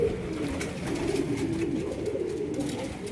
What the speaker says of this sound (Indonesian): Ini burung saya, Trachtenwood.